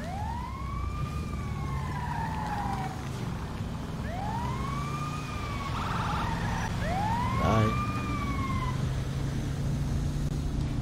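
Wailing ambulance siren in a video game, three rising-and-falling sweeps cycling steadily over a constant noisy rumble of traffic, loud and near throughout.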